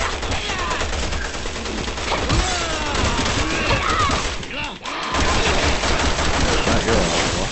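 Rapid, loud assault rifle fire rattles almost nonstop in the Resident Evil 6 video game, a dense fusillade with a brief lull before resuming, under co-op players' chatter.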